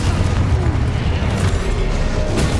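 Loud, sustained blasting roar from the Confringo explosion spell in a video game, a dense, booming rumble that fills the short moment close and forceful without a break.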